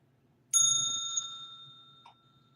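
A small singing bowl, bought cheaply, is struck once, giving a bright sustained ringing tone that slowly fades, with a light second touch near the end.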